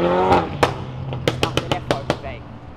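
A car exiting a street drift event revs its engine hard, then lets out a series of about seven sharp, loud exhaust pops and bangs spaced unevenly over a couple of seconds as the engine note fades.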